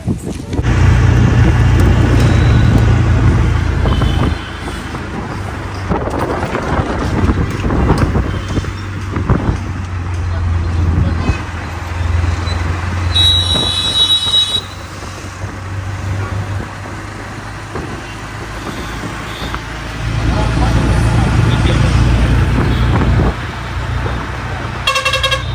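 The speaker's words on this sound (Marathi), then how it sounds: "कार आली कार." Road traffic rumbles nearby with several car and truck horns honking, engines swelling and fading as vehicles pass, and voices heard intermittently.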